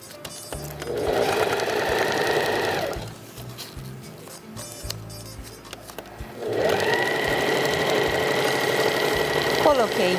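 A sewing machine stitches a cartonnage pouch, running in a steady buzzing whir, pausing for a few seconds with small clicks during a reverse stitch, then resuming; close and loud, with no clear talk over it.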